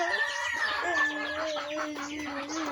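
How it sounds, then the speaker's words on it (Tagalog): Pet chickens cluck at their backyard coop, a hut with nests, steady overlapping clucks and calls from several birds close by with no one talking. "bahay po ito sa mga manok ko po, mga alaga"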